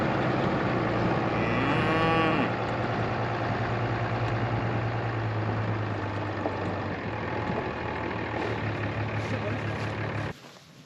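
Cattle moo loudly and close by on a ranch, with one long drawn-out low, heard over the steady idle of a truck engine.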